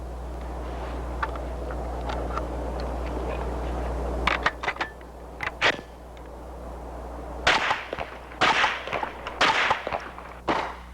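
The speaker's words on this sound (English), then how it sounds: "It permits automatic fire under combat-like conditions without reaccustoming the shooter." A Heckler & Koch .22 caliber training conversion fires in automatic mode, sharp cracking bursts of several rapid shots in clusters over a steady low hum, after a quieter stretch with a few isolated pops.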